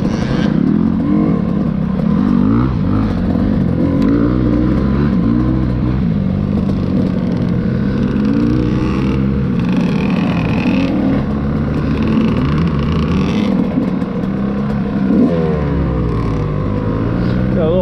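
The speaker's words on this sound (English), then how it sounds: "Savannah up front on the Honda CR50, busting on the KTM 65." A Honda CR50 and a KTM 65 dirt bike ride a trail, with small two-stroke engines buzzing and revving continuously close by and clattering over uneven ground.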